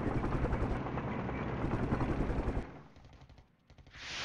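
Helicopter rotor noise and bursts of gunfire from the video game Flashpoint Campaigns, with Mi-24V helicopters being engaged by a SAM, loud and continuous, then thinning into a quieter stretch with a rising hiss at the end.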